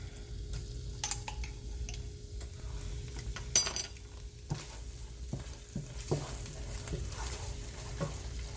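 Red curry paste sizzling in a hot pan while a utensil scrapes and stirs it, a steady frying hiss with irregular scraping knocks throughout.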